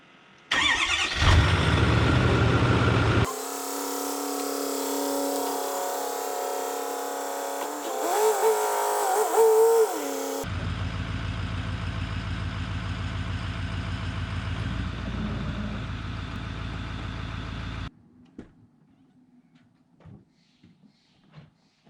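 A pickup truck engine runs loud and steady while the truck drives out from under a slide-in camper, with revving surges, then the engine cuts off and leaves near silence.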